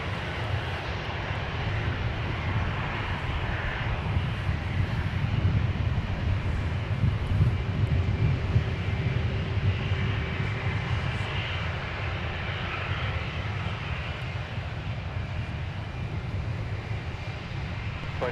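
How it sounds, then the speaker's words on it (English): Airbus A220, the longer version, taxiing out toward the runway at Minneapolis–St. Paul airport, giving a steady broadband jet engine roar with low rumble and some wind noise, continuous and fairly distant throughout. "That looks like the longer version of the 220 series. Yeah, the Airbus A220."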